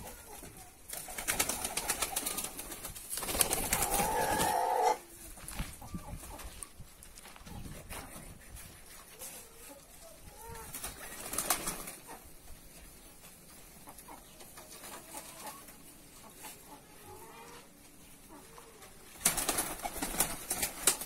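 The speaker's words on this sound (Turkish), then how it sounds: "Hadi başlayalım, kuşları çıkaralım arkadaşlar" Pigeons released from a coop that also houses chickens, with fluttering wings and scattered bird calls over a bustling yard, loud bursts of movement near the start and end and quieter stretches between, without clear talk.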